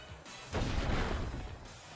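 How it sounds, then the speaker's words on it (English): A Stone Edge attack in a Pokémon battle lands as a single crashing, rumbling impact that swells for about a second and then fades, fairly quiet overall. "I'm going to fire off the Stone Edge"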